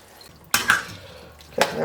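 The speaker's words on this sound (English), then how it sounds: "we're going to give it a good stir around. And let the liquid boil away a bit" Pork and bitter melon stir fry being turned in a pan after soy and fish sauce go in: two distinct utensil clanks and scrapes about a second apart over a faint simmer, with no speech.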